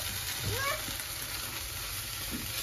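Tomato puree frying with browned onions in oil in a pan, a continuous dense sizzle and crackle that stays even and close for a few seconds, with no voices.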